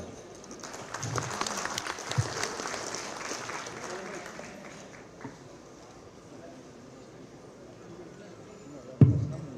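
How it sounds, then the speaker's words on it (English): Applause rises from the audience at a policy summit in a hotel ballroom, a dense clatter of clapping that fades after a few seconds into murmuring room noise, with a sharp thump near the end. "please join me once again in giving the Honorable Amir Jamaat a warm round of applause again"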